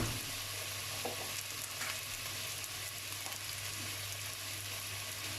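Pieces of raw meat fry in a pan that isn't non-stick during a 1930s-themed cookery demonstration, a steady, soft, even sizzle running throughout with no talking.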